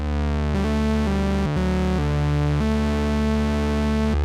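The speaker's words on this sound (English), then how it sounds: "Listen to that saturation." A Moog Sub 37 synthesizer with its mixer pushed into heavy overdrive plays a sustained, saturated tone, stepping through several held notes for about four seconds, loud and alone with no voices.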